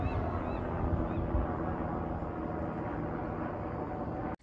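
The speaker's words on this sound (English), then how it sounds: "Do you hear that helicopter?" A low, steady drone of a helicopter overhead, constant throughout and fairly faint, ending with a brief dropout.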